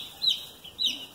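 Baby meat chicks cheep in a few thin, high-pitched chirps spaced about half a second apart, faint and close by with no talking.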